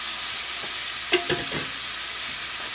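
Small shrimp sizzle steadily in a pan with celery and butter, with a loud continuous fry and a couple of brief stirring clatters partway through.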